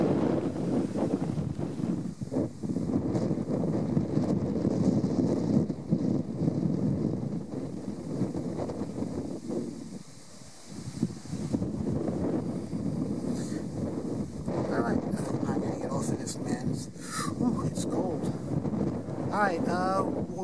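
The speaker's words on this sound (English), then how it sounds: "It's really breezy here too, but not as bad." Steady breezy wind buffets the microphone on a mountain ridge trail on Hedgehog Mountain in New Hampshire, a continuous loud rumble with gusts that dip briefly near the middle.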